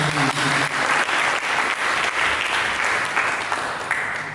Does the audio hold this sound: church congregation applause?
yes